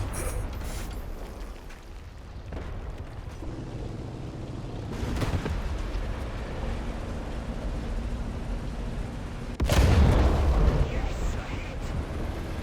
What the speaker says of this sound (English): Indeed, it's a bomb.